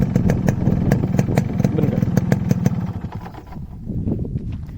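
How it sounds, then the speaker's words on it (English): A fully restored vintage Yamaha RX 100 two-stroke motorcycle engine runs loud and close, with a rapid crackling, popping rhythm that briefly rises then settles toward idle. "Now this is a signature two-stroke sound that you will never find anywhere else."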